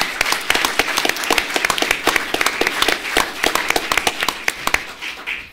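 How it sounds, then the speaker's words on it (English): Audience applause at a League of Women Voters city council candidate forum in Port Hueneme: dense, close clapping from a crowd that swells and holds steady, with sharp individual claps standing out before it begins to taper. "So how about a round of applause for all of them?"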